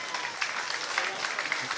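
A rugby crowd from the Wainuiomata contingent applauds steadily as an injured player is helped off the field at a Hardham Cup final, a dense continuous patter of clapping at moderate distance.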